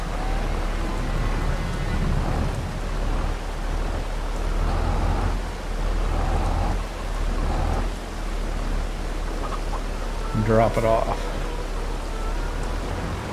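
Steady rain falls in the farming video game Farming Simulator 22, a constant hiss running under someone talking, with a brief louder in-game sound near the end.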